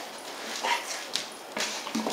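A dog playing with a tube toy makes close whimpers and short yips with a couple of brief barks, set against a quiet indoor room.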